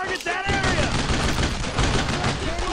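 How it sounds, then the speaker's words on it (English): Rapid, dense gunfire crackles almost without pause through a firefight in the World War II shooter Brothers In Arms: Road To Hill 30, loud and close, with faint voices mixed underneath. "Okay, now we're shooting."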